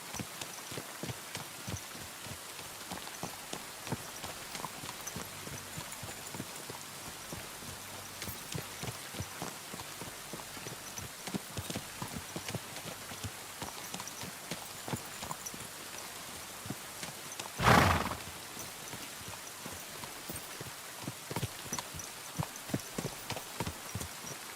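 A horse's hooves clip-clop steadily in Kingdom Come Deliverance II, faint and even under a soft rain-like patter, with one sharp louder thump partway through.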